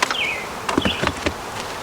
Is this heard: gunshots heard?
no